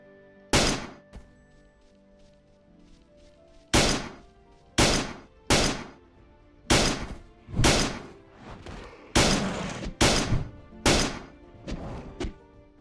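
Gunfire in the video game Planet Explorers: about a dozen sharp shots spaced irregularly a second or so apart, each with a short decaying tail, loud and alone.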